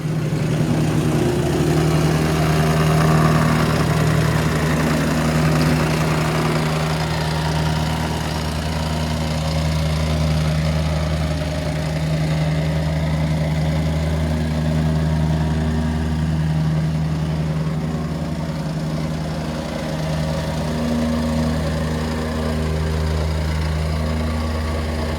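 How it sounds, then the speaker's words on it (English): The engine of a plate compactor runs steadily and loudly nearby as it compacts sand laid for block paving, holding a continuous low, throbbing drone with no pauses and no talking. "So that is all the sand compacted."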